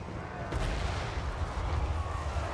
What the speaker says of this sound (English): I've got my flame cannon trying to shoot some of their approaching infantry